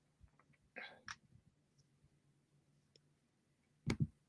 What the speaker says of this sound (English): your keyboard is clicking in the background